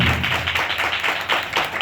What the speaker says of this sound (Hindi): जो शादीशुदा है ताली मारिए जोर से, जोर से